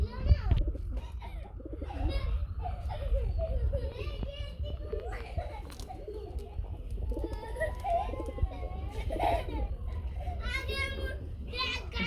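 Red-feathered Greebus pigeons coo softly in repeated low calls at close range, mixed with children's voices and other chatter in the background.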